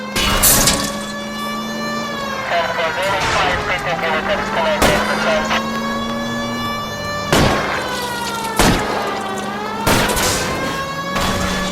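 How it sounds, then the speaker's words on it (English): Several sharp, loud gunshots fired at a fleeing car's tires in the L.A. Noire video game, cracking out one by one over a steady droning engine and background score. "I'll try to shoot out his tires."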